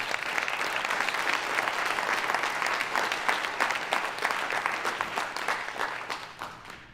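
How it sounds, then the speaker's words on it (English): A crowd at a Veterans Day event claps steadily in a sustained round of applause that gradually tapers off near the end. "one more round of applause if you don't mind."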